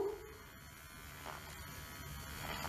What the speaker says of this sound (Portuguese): Como escovar os dentes é bom com a escovinha elétrica?